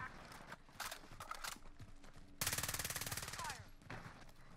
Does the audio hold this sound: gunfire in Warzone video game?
yes